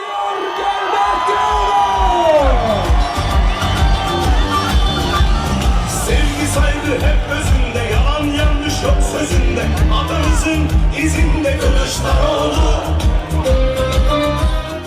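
A large outdoor political rally crowd for Kemal Kılıçdaroğlu in Uşak cheers, whoops and chants a slogan, with loud, sustained roaring and rhythmic shouting throughout, some voices rising above the mass.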